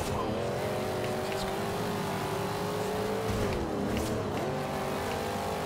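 A race car engine in Forza Horizon 2 drones at a steady high pitch, dipping briefly as it shifts, with faint tire noise and no voices.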